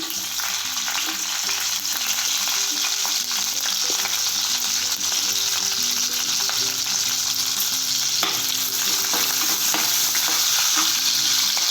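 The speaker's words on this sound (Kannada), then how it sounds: "ಈಗ ಮಸಾಲೆ ಐಟಮ್ ಎಲ್ಲ ನೀವು ಹುರ್ಕೋಬೇಕಪ್ಪ. ನೋಡಿ, ಚಕ್ಕೆ, ಲವಂಗ, ಹಸಿಮೆಣಸಿನ್ಕಾಯಿ" Whole spices such as cinnamon and cloves, along with green chillies, fry in a pan for a mixed vegetable curry. The sizzle is close and continuous, with stirring scrapes throughout and no talk.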